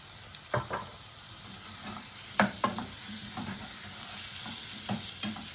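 Green chillies and chopped tomatoes sauté in a pan for paneer mutter masala, with a soft steady sizzle broken by several sharp spoon-stirring scrapes, close and without talk.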